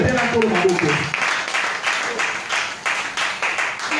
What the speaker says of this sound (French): Acclamez le Seigneur Jésus-Christ